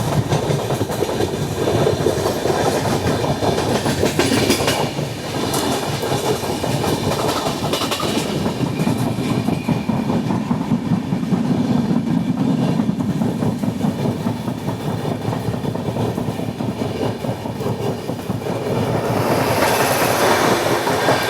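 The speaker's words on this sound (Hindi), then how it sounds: "अभी हमारे ट्रेन की क्रॉसिंग होने वाली है काचीगुड़ा भगत की कोठी एक्सप्रेस के साथ कारखेली स्टेशन पे" Rumbling, continuous noise of the Ajanta Express passenger train running, heard from inside with a steady clickety-clack over the rails as it crosses another express, loud throughout with no talking.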